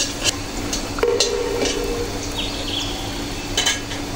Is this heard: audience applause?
no